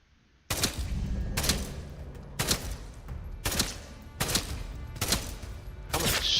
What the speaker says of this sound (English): That was 7 headshots with the rifle?